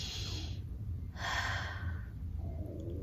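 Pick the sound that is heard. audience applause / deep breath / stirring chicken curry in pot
deep breath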